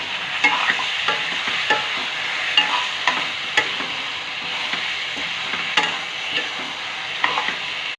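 Meat is stirred into an onion and tomato gravy in a hot pan, a continuous close sizzle broken by repeated scraping strokes of a spoon at an uneven rhythm, with no voices.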